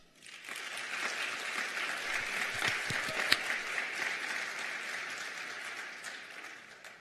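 Sustained applause from an audience at a first-generation student commencement, steady clapping that holds for several seconds before tapering off at the end.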